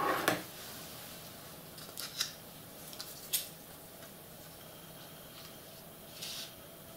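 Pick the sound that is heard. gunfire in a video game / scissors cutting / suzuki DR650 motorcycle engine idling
scissors cutting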